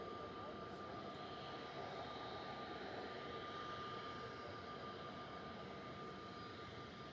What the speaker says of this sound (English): So the A380 just passing south of the city centre now, about to pass the Sonics marker on its Sonics 1 Yankee departure.